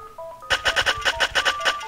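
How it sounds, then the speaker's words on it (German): A telephone rings repeatedly during a German Dungeon Keeper let's-play recording, a rapid run of about ten short electronic tone bursts in quick rhythm, fairly loud and close, with no speech over it. "Ja, natürlich geht jetzt mein Telefon auch noch,"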